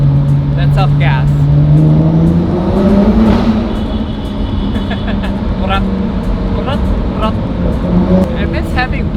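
A car engine revs loudly, its tone rising and falling, while the exhaust spits repeated crackling pops and bursts as the throttle lets off, with a voice partly over it.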